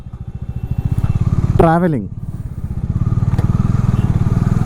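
Motorcycle ridden across a bridge over the Ganga river, its engine putting out a loud, steady close-up throb with rhythmic pulses, while someone speaks briefly over it.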